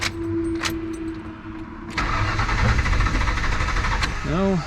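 A Ford Bronco engine cranks briefly, then catches and rumbles unevenly, with a short voice near the end.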